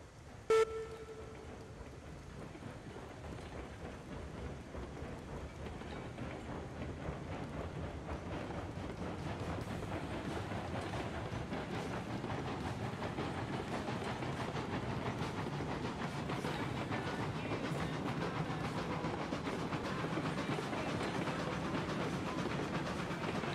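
A train rolls steadily along the rails in the game Railroads Online, a continuous low rumble that builds after a brief tone at the start and holds at an even, fairly loud level throughout.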